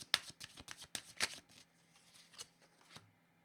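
Tarot cards are shuffled in a quick burst of riffling flicks, then a few slower card slides as one is drawn. The cards sound close and crisp, and no one speaks.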